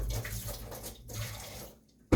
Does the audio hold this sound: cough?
no